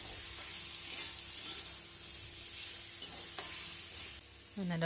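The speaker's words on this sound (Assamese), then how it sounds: "দি ভালদৰে এনেদৰে লৰাই লৰাই ভাজি আছোঁ।" Vegetables stir-fried with turmeric and salt crackle in a pan, with a continuous soft sizzle broken by repeated scraping strokes of a spatula and a clink near the end.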